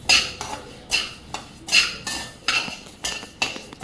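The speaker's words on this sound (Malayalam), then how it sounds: "ഇതൊന്ന് വറുത്തെടുക്കണം കേട്ടോ" A metal spoon stirs rice roasting in a pan for ghee payasam, a regular rhythm of about nine scraping clinks against the pan, close and alone.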